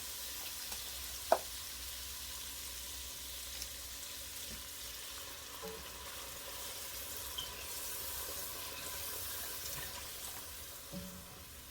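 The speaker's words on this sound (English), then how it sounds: "Now, we're going to add the broth." Broth is poured into a hot pot of oxtails and garlic, raising a steady, close hissing sizzle that runs throughout, with a few sharp utensil clinks against the pot and no talking.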